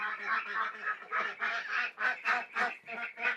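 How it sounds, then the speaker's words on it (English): A newly added flock of ducks quacks in a rapid, overlapping series of nasal calls, close by and steady, with no talk over them. "we just added 13 ducks to our flock"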